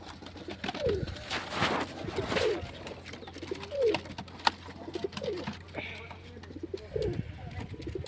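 Pigeons in a pigeon house coo in repeated low, rolling phrases at close range, roughly one every second or so, over a steady background hum with scattered clicks and rustles.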